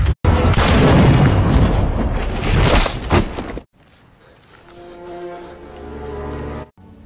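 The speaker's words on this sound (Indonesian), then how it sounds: "Sersan Liu menyuruh pasukannya untuk menembaki benteng Amerika" Battle scene from a war film with heavy gunfire and explosions: a deep booming blast opens, then sustained loud roaring detonations and shots for several seconds, followed by a quieter rumbling tail with tonal background noise.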